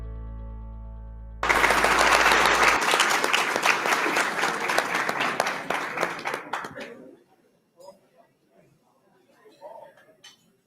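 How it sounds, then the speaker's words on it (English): Loud applause from a gala audience at an impact-investing event, a dense wash of clapping that swells abruptly, holds for several seconds, then thins out into scattered claps and faint room sounds. "Let's all give another round of applause for this family that's really going through it."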